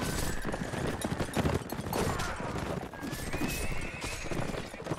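Horse hooves clip-clop steadily in a multiplayer video game match, with whinnying neighs rising above a dense, busy mix of game noise throughout.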